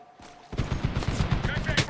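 Rapid bursts of PKM machine gun fire rattle in Medal of Honor (2010), a fast, loud rhythmic stream of shots erupting after a quiet moment, with speech audible around it.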